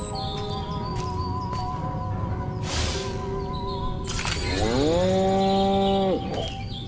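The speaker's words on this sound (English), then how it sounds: "Again with the moo?" Cattle in Destroy All Humans give a long, loud, drawn-out moo near the end, while light bird chirps and ambient game sounds run throughout.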